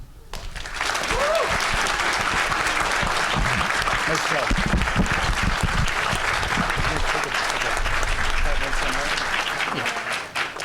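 Audience at a school district board of education meeting bursts into sustained, loud applause from many hands, with a few voices calling out and chatter mixed in throughout.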